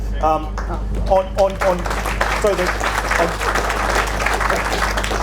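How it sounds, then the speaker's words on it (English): A crowd at a Fieldays session gives a round of applause for Caleb, steady clapping under someone talking at the start, then the applause carries on alone at moderate loudness. "can everyone just chuck a round of applause up for the bro Caleb?"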